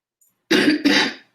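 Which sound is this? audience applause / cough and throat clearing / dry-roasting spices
cough and throat clearing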